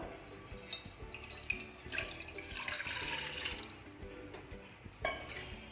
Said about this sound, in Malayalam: അതിലോട്ടേക്ക് 1 കപ്പ് വെള്ളം ഒഴിച്ചു കൊടുക്കാം